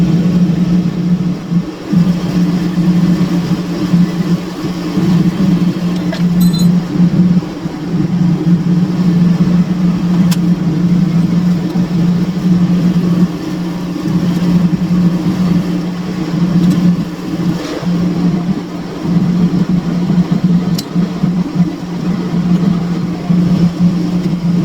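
A heater runs in a garage during a lower-end rebuild of a Mopar 383 engine, giving a loud, steady low droning hum that fills the space continuously with faint faraway clicks and no talking.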